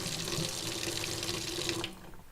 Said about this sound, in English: turned on the sink, and got a glass of water